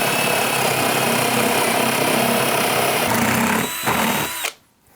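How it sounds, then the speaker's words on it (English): A power drill bores holes high up into wooden joists during insulation work on a garden room. Its loud, steady whine runs close and continuous for about four and a half seconds, then cuts off abruptly. "So these holes are being drilled quite high up into the joist"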